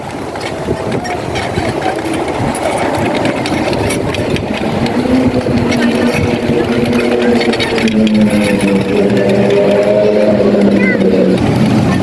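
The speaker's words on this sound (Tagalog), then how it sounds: "di po ako naglalakad at dito ako nakasakay sa scooter" A motor scooter's small engine hums steadily up close while someone talks over it, the motor note rising and wavering as it rides along Manila Bay at night.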